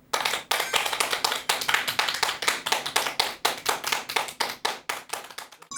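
A studio audience at a lecture show claps steadily in unison, producing a strong, evenly paced rhythmic clapping that carries on for several seconds without speech.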